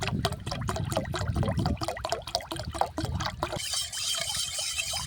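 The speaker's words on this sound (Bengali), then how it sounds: "এরপর আমি এর মধ্যে কিন্তু পরিমাণ অনুযায়ী জলটা দিয়ে দেব।" Water pours in gurgling glugs into a mix of lemon juice and sugar for a summer drink, a close, rhythmic bubbling stream that stops and leaves a soft fizzing hiss.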